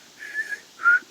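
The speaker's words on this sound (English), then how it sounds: "I can still whistle." A person whistles a few short, slightly breathy notes close up, two brief phrases separated by a pause in a quiet room.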